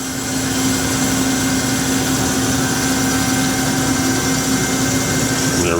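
A 2018 HYD-MECH H-14A automatic horizontal bandsaw runs a cut, giving a loud, steady machine drone with a constant mechanical hum and whine and no pauses.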